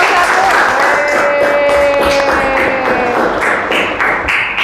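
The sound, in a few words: class applause for a student group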